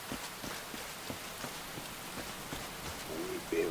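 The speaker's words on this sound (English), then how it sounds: "The rain lets up." Steady rain falls in the survival game Enshrouded, a soft continuous patter of drops at even loudness throughout, with a faint bird-like chirp near the end.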